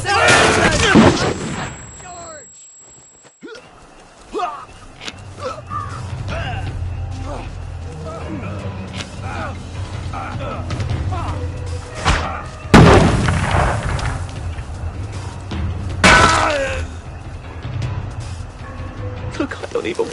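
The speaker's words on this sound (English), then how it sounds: "They're bombing us" Bombing explosions in a video game hit as heavy booms around the middle and later in the stretch, mixed with mechanical clatter and gunfire-like bursts beneath nearly constant talking voices.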